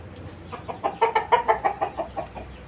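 Chickens in a coop cluck nearby in a quick series of about a dozen rhythmic calls, rising and then tapering off, with faint background noise.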